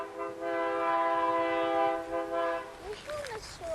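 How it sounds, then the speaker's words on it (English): A train horn sounds loud and sustained for about two seconds in a timber zone 4 garden, then fades as a voice starts talking. "hear the train"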